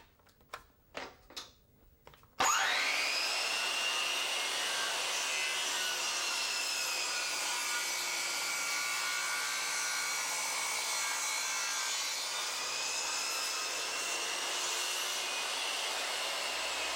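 A circular saw makes a bevel cut in wood on a Triton Workcentre. A few short knocks come first, then the saw bites in with a loud, sustained high whine that holds steady to the end, close up and with no speech.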